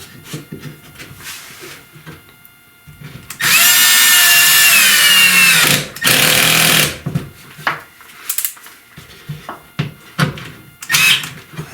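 A power drill drives a couple of screws into a scrap wood block during bathroom plumbing and drywall work, giving two loud, close whirring bursts of a few seconds each, followed by clunks and handling noises.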